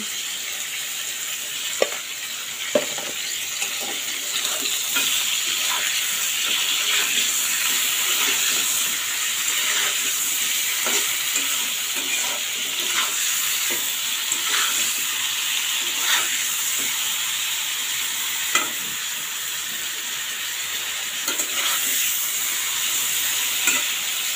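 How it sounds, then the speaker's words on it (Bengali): Chicken roast pieces sizzle and hiss continuously in oil in a pan, with scattered sharp pops and spatters over a steady frying bed, close and moderately loud throughout. "রোস্টগুলো এখন আমি ভেজে নেব।"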